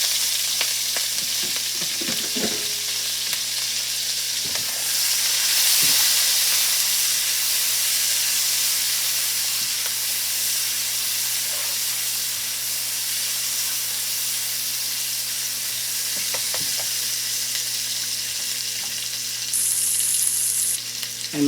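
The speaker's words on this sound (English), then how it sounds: "Now I'm going to add the green peppers and onions." Green peppers and onions fry in a little oil in a pan after burgers, giving a steady, fairly loud broad hiss with a few faint clicks and no voices.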